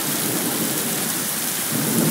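Heavy rain from a Brisbane summer thunderstorm pours onto a roof, driven by wind, as a loud, steady, dense roar with a low rumble underneath and no talking.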